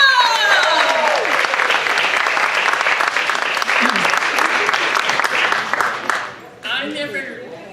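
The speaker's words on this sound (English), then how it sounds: "Let's give her a big round of applause." A comedy-night audience breaks into loud, sustained applause and cheering for a comedian taking the stage; the clapping fades near the end as someone starts talking.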